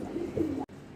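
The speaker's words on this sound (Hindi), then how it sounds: "कबूतर देखो किस तरह घबरा रहा है बाहर आके" A pigeon coos in a brief, soft warble outdoors, followed by a sudden cutoff and quieter background, the call close and moderately loud.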